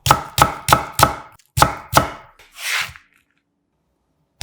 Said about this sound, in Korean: 대파 4분의 1개는 반을 갈라 1cm 두께로 어슷하게 썰어주세요.